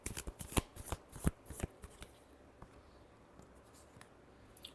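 Tarot cards are shuffled by hand in a quick burst of crisp riffling snaps, loud at first and then fading to softer sliding and tapping.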